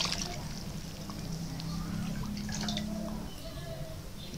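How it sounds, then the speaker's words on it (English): Water being poured into a cooking pot while Ghanaian yam pottage is prepared, a steady close pouring and sloshing that lasts the whole time, with faint drips and some background voices. "You need to add water."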